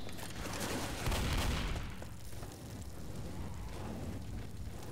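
Rapid gunfire and booming blasts from the Left 4 Dead zombie shooter, a loud dense burst over the first two seconds that settles into a continuous rumbling, rain-like wash of distant shots.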